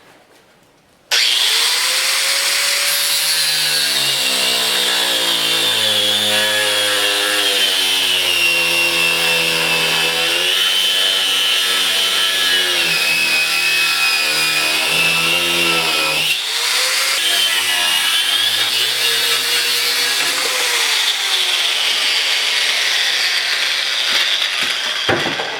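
A power saw or grinder cuts down a metal bushing piece for a mini bobber motorcycle build, a loud, close, continuous whine with a harsh metallic hiss that wavers in pitch as the load changes, running for most of the stretch.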